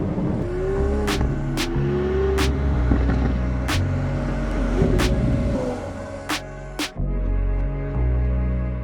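A Lamborghini Aventador S drives on the road, its engine producing a deep, continuous rumble with rising and falling revs, punctuated by several sharp clicks or pops from gear changes before settling into a steadier drone.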